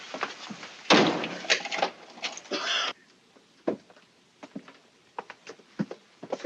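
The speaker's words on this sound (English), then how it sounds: "Lock the door, will you?" A cabin door aboard a ship is shut with a loud, close thud, followed by a burst of rattling clicks as it is locked. A few faint, sparse taps follow in a quiet room, with no talking.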